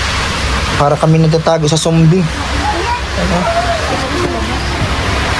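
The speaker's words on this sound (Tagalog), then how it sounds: "So, grabe pa rin po ang lakas ng bagyo." A strong typhoon blows outside a house losing its roof, with wind and rain rushing in a loud, continuous roar while people talk over it.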